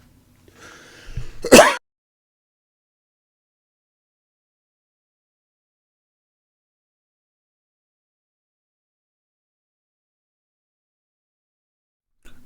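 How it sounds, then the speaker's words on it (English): One short, sharp cough or throat-clear, close and fairly loud, followed by a long silence. "excuse me, I had to cough"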